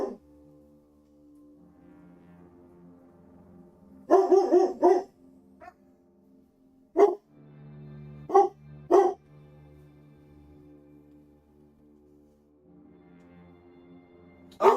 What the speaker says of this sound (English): He's barking at Vader.